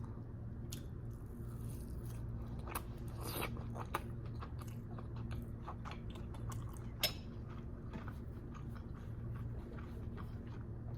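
Someone chews Trader Joe's ube mochi pancakes with maple syrup, close up and quiet: soft sticky bites and squishy crunches come at irregular intervals over a low steady hum, with occasional light clicks of cutlery and no talking.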